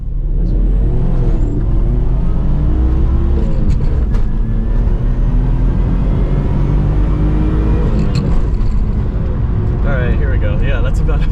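A 1992 Mitsubishi 3000GT VR4 with a transversely mounted twin-turbo V6 accelerates, its loud engine drone rising steadily in pitch throughout, heard from inside the car with people talking over it.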